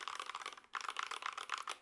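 Rapid, clacky typing on a small, light Bluetooth mechanical keyboard in stock form, a dense run of bright keystrokes with a brief pause partway, fairly loud and close with no voices.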